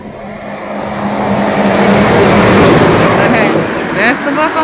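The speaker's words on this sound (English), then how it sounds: "That's the bus I'm waiting on, y'all." A city bus passes on the street, a loud whooshing engine rumble that swells, peaks in the middle and fades, with voices talking over it.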